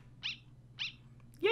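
Short yappy dog barks from the Undertale video game, two evenly spaced electronic yips followed by a louder third bark, heard alone.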